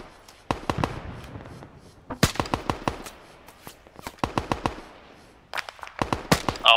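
Gunfire in Arma 3: SOG Prairie Fire, a Vietnam-era combat setting, with loud close bursts of rapid automatic shots and single cracks separated by short pauses, the fire resuming in clusters throughout.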